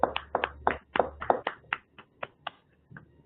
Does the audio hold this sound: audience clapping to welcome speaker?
yes